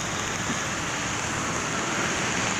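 Steady rain falling on a lake outdoors, a dense, even hiss of drops hitting the water that holds at the same level throughout, with no voices over it.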